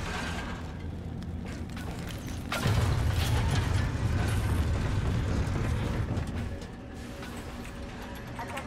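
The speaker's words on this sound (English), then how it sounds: "I guess I'm the only one that can plant charges here." Charges being planted in Call of Duty Infinite Warfare, heard as a steady run of mechanical clicking and whirring. A deep low rumble swells in partway through, holds, then eases off near the end.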